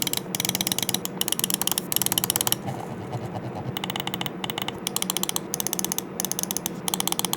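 Rapoo VT2 Max Gen 2 gaming mouse buttons click in rapid, evenly spaced bursts with brief pauses between runs, crisp and close-up, with no one talking.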